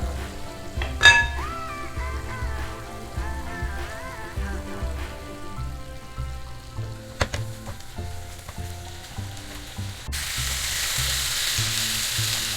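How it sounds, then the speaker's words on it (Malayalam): Bellary chicken frying in coconut oil in a pan, a continuous close sizzle with intermittent stirring clatter and a metallic clink near the start, and a brighter, hissier frying sound toward the end. "ഇനി ഇതിൽ കുറച്ച് വെളിച്ചെണ്ണ ഒഴിച്ച് കൊടുത്തിട്ട് ഒന്ന് ഫ്രൈ ചെയ്തെടുക്കുക"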